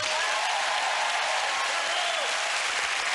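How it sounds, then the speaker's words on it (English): A television game-show studio audience applauds steadily, a dense, loud wash of clapping that holds evenly for a few seconds without letting up. "Give them a round of applause."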